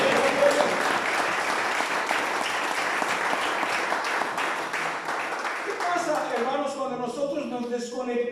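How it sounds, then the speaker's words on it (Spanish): Church congregation at a men's retreat applauding, a dense sustained wash of many hands clapping loudly throughout, thinning out near the end as a voice starts over it. "¿Cuánto le dan un aplauso al Señor a esto?"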